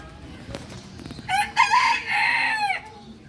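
A hen calls out loudly at a bird park in Thanjavur, a drawn-out clucking cry in a few bursts after some faint background noise.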